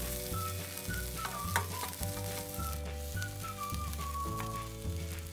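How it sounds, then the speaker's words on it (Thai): Fried rice with salted fish and kale stir-frying over high heat, a loud steady sizzle with repeated scraping stir strokes, set against a continuous background melody with no talking. "ขั้นตอนนี้เปิดไฟแรงๆเลยนะข้าวเราก็จะได้แบบไม่ไหม้เปรียมๆนิดนึงหอมๆค่ะ"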